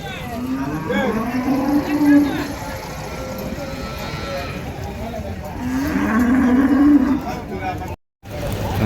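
Cattle, including Western-breed bulls, give two long, low moos a few seconds apart, heard over voices and the general bustle of a busy livestock market in Vaniyambadi.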